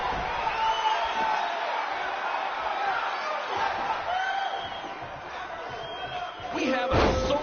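Sold-out, record-setting crowd at a BCW wrestling event cheering, a continuous roar of arena noise with scattered shouts and a louder burst near the end, under steady talking.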